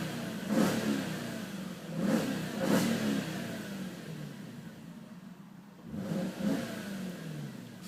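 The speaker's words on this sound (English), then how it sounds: "Fantastic sounding engine, if you ask me." The engine of a 2004 Jaguar S-Type R revs several times, each rise a quick throaty swell that falls back to a low idle in between, heard from close by.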